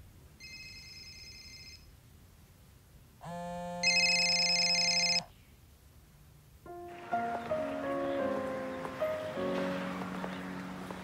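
Telephone ringing in a Russian film scene, with two separate electronic ring bursts, the second louder and longer, followed by a soft melodic ringtone-like phrase over a quiet room.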